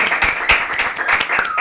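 A small group of podcast guests claps at a table, a few hands giving distinct, uneven claps at close range over a short burst.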